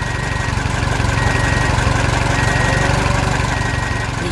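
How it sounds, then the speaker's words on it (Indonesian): A tractor engine drones with an even low throb, running continuously and fairly loud without any pauses. "Traktor besar membawa trailer penuh pohon."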